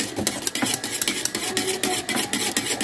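A spoon stirs thick rice-flake (poha) flour dough in a metal pan, making quick repeated scraping clicks at an uneven rhythm, close and clear with no talking.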